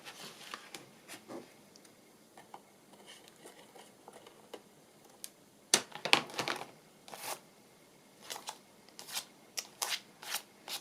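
Paper being handled and trimmed for journal pockets, with soft rustles, snips and sharp crinkling bursts that grow busier toward the end, close-up and fairly quiet.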